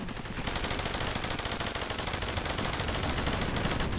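A carpet bombing in the Cepheus Protocol video game comes through as a dense, continuous rapid rattle of many closely spaced blasts. It runs steadily for about four seconds at moderate loudness, with no voices heard.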